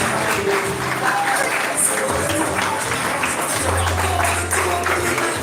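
Applause from the audience at a pre-K school leaving ceremony, a moderate, uneven patter of clapping with low hum and scattered noises from the room mixed in.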